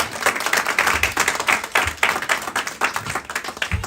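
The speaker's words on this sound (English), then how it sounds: "We'll give him a round of applause." An audience claps through a round of applause at a talk on habits and planning, the dense, uneven claps staying loud and close from start to finish with no voices over them.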